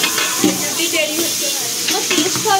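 Onions fry in a pan at an outdoor picnic with students, giving a steady close sizzle broken by scraping stirs, with faint voices in the background.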